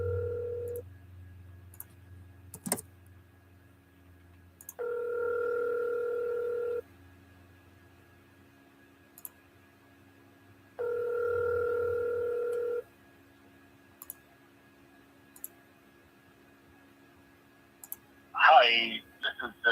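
Outgoing phone call ringing back twice in long, even electronic tones separated by silence and faint clicks, then a brief voice as the line reaches voicemail.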